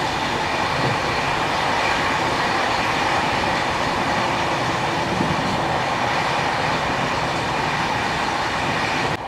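Inside a new LHB coach of the Jagannath Express while it is moving: a steady loud rumble with rhythmic wheel clatter on the rails, continuous and without voices.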